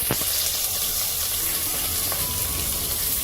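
Onion, garlic, cumin seeds, a dried red chilli and curry leaves sizzle in hot oil, a loud, steady, continuous hiss that holds throughout with no voices.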